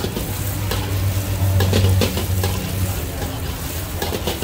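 Steady, loud sizzling of crab fried rice being stir-fried in a giant iron wok, with occasional scraping clatter of a utensil against the pan.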